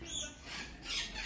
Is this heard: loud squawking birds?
yes